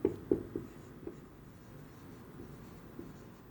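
A pen writes on paper during an accounting exercise, with a few close scratchy strokes at the start that fade into quiet, soft scribbling and room tone.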